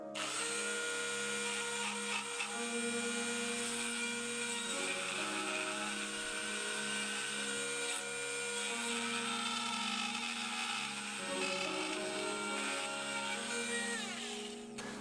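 Rotary power tool carving a 2–3 mm groove in bonsai deadwood at its highest speed setting, a continuous loud whine with shifting tones as the bit bites into the wood, running for the whole stretch with no talking.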